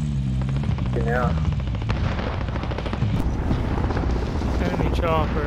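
Enemy helicopter in a Call of Duty Plunder match, a steady loud rotor drone running throughout beneath gunfire and game noise while players talk over it.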